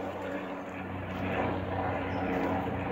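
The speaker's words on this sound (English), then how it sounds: "Oh, it's a helicopter." A helicopter drones overhead outdoors in a garden, a steady rumbling engine and rotor sound that swells slightly louder partway through, with no talk.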